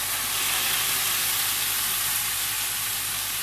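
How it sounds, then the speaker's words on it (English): Steady, loud sizzle of canned tomatoes hitting a hot pan of garlic and chili flakes, a dense continuous hiss with no talking. "Now I'm just adding a full tin of tomatoes."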